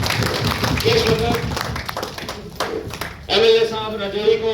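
Scattered clapping from a small group at a public welcome rattles along beneath someone speaking over a loudspeaker, with the claps continuing under his voice.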